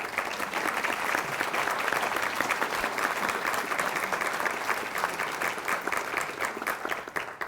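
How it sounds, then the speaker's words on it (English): An audience at a school district's State of the Schools address breaks into sustained applause, a steady wash of many hands clapping evenly throughout, with no speech over it. "That's when you clap."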